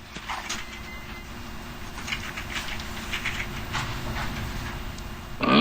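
A wedding train in the comedy adventure game Sam & Max rolls along, a soft steady rumble of rail clatter with faint hiss, fairly distant, ending in a sudden louder burst.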